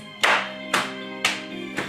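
Four sharp hand claps or taps land about half a second apart in a steady rhythm, close and fairly loud, during a children's movement activity.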